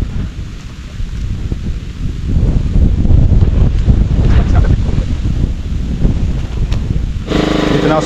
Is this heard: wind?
yes